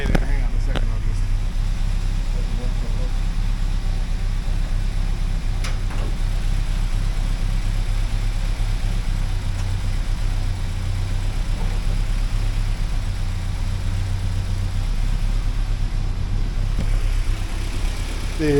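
A 1979 Porsche 924 engine idles smoothly after warming up, with a steady low rumble held for the whole stretch while a voice talks over it now and then.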